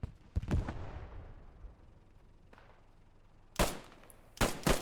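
Gunfire in the World War II shooter Squad 44, a loud close burst of shots at the start, then a distant crack, and two more sharp, heavy shots near the end, with echoing decay between them.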